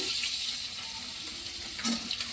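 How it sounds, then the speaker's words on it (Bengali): Tomato sizzles in hot oil after mustard seeds and nigella have been tempered, a steady close hiss of frying that holds for a couple of seconds and ends with a brief clatter. "এবার আমি টমেটোটা দিয়ে দিলাম তেলের মধ্যে"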